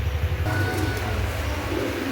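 Pigeons offered for sale coo softly and repeatedly in low, throaty tones amid steady background noise, with nearby sounds mixed in.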